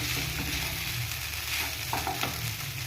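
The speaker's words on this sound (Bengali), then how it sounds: "এটাকে আমি একটু নেড়ে চেড়ে নিচ্ছি।" Spiced Basanti pulao rice being stirred in a pan, a steady scraping and shuffling over a continuous soft sizzle, close and moderately loud, with no talking.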